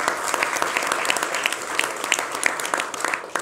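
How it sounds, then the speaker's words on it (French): Studio audience applauding on a French television talk show, steady loud clapping from a modest crowd, with distinct individual claps standing out from the continuous wash. "Il s'appelle Ignace, on peut l'applaudir très fort également."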